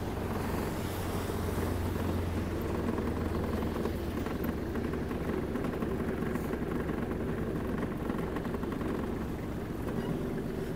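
A Kubota KL-25 Japanese mini tractor engine drones steadily and loudly close by while reversing, a continuous rough rumble with wind noise and no voices.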